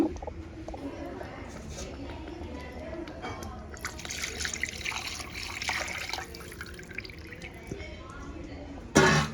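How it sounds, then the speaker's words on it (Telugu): Water poured into a pot for Rayalaseema-style chicken kushka rice with small onions, a soft trickle that swells into a louder liquid rush, ending with a brief clatter. "ఇప్పుడు తగినన్ని వాటర్ అయితే పోసుకుందాము"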